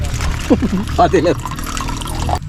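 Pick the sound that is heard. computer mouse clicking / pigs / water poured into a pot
water poured into a pot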